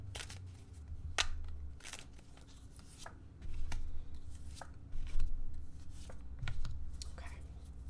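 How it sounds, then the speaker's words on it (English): Tarot cards being shuffled and drawn from the deck, a run of crisp papery riffles and sharp flicks spread across several seconds over a low steady hum, close and fairly quiet with no talking. "we're going to pull 3 cards,"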